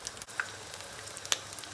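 Eggplant sizzling in hot oil, a soft, steady crackle with a few sharp pops scattered through, quiet and close, with no voices.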